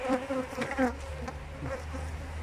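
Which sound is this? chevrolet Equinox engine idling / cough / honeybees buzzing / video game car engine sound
honeybees buzzing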